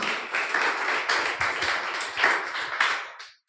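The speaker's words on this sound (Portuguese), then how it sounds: "Você pode aplaudir o Senhor nesta noite." A church congregation applauds together in an evening service, a dense, steady round of clapping from many hands that lasts a few seconds and then fades out.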